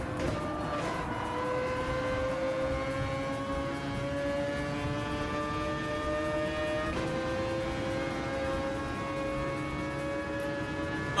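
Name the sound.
car engine revving in a racing video game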